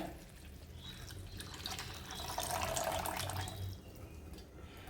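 Coconut milk pours into a cooking mixture of jaggery and coconut, a soft, liquid splashing and trickling that swells in the middle and fades, faint and close with no talk.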